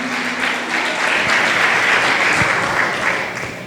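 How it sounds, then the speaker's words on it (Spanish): A church congregation claps steadily and loudly together for about four seconds, a dense sustained patter with a few voices faintly mixed in. "Dale fuerte palmas al Señor."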